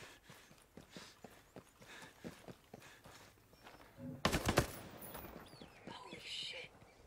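Gunfire in a video game: after a run of soft, scattered clicks and steps, a short, loud burst of shots cracks out in the middle, followed by quieter rustling.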